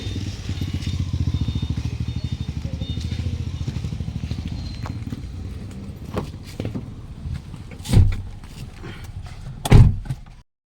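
A 2012 Toyota Vios engine idles with a steady low rumble after a battery reset during check engine and ABS repairs, close by, followed by a couple of loud thunks like doors closing near the end.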